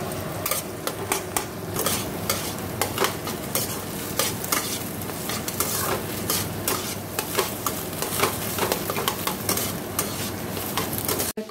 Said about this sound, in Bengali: এখন এখানে আমি তেল দিয়ে পেঁয়াজ লঙ্কা ভাজছি।